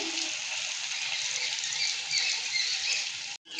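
Water pours steadily into a cooking pan of potato curry, giving a bright, close splashing hiss. It cuts off briefly near the end, and no one speaks.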